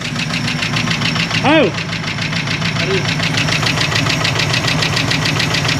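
A long-stored barn-find 1961 Ford Galaxie with a 390 V8 idles steadily with a rough, knocking mechanical rhythm, close and continuous, while a man briefly exclaims over it in an enclosed space.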